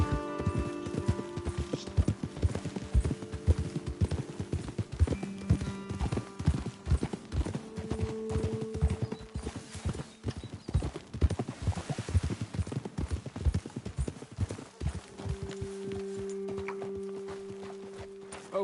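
Horse hooves clip-clop steadily in Red Dead Redemption 2 as mounts are ridden along a path, with close, uneven beats of several animals and an occasional snort or whinny before the footfalls slow near the end.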